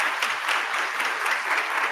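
Audience applause at a panel event on fibroids, a dense, even patter of many hands clapping throughout, moderately loud with no voices over it.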